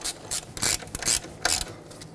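A ratchet wrench tightening a bolt on a front brake hose bracket of a 2006-2010 Hyundai Sonata gives a string of quick, close clicking bursts in an uneven rhythm, heard alone.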